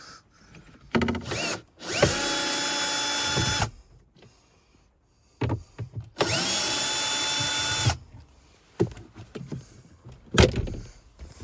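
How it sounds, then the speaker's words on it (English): Cordless drill or driver backing out two screws from a Mk1 Mazda 3 heater box, two sustained whirring bursts each about two seconds long, close and loud, separated by clicks and handling noise of parts. "we're going to remove them 2 screws up there"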